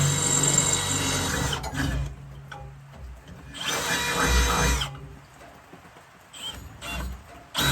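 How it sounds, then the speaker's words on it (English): Power drill with a 6mm bit boring holes on a boat trailer during light rewiring, three separate bursts of high whining drilling, loud and close, with quiet pauses between them. "Now I'll swap this over to the 6mm bit, and this will drill our large holes out."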